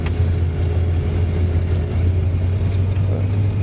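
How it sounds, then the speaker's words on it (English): An old 1978 pickup truck drives along with a loud, steady, low engine drone and road rumble that continues without a break, heard from inside the cab. "Poor old truck's been around quite a while. It's a 78, and I bought it in 81 in Alberta."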